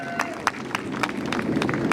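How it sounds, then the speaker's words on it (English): Crowd at a Hispanic Heritage Month launch event applauding vendors and a mariachi group, with steady, dense clapping at moderate distance, some louder individual claps, and a murmur of voices underneath. "give them a big round of applause."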